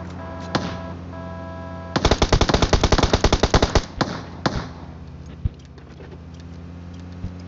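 Rapid burst of automatic gunfire in the mobile battle royale game PUBG Mobile, a tight string of about a dozen close, sharp shots, preceded and followed by a few isolated single shots over a quiet game background.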